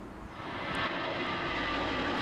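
A steady, broad roar of an airplane passing overhead near Luton airport, building slightly in loudness and holding at a moderate level with no voices.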